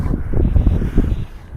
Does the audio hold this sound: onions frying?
no